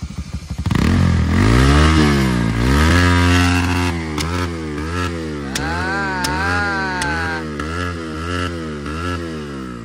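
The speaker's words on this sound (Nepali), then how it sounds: "बाइकको साउन्ड चाहिँ यस्तो भयो होइन" A motorcycle engine is started and revved repeatedly, rising and falling in loud, close pitch sweeps over a steady idle, each rev swelling then dropping back.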